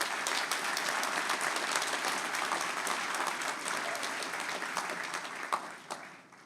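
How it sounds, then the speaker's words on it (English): Sustained applause from an audience at a University of Guelph-Humber convocation, dense steady clapping that fills the hall and then tapers off near the end. "Let's give them all a big round of applause,"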